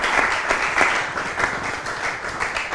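A live audience at an event on Congolese culture claps steadily, a dense even patter of many hands at moderate distance that carries on without pause and with no voices standing out.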